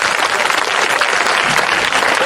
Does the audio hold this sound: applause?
yes